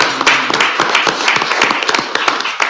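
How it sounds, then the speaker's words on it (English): Applause at a City of El Centro council meeting: a small group clapping close by, with scattered irregular claps and a few voices mixed in. "if we can please have a round of applause on behalf of our"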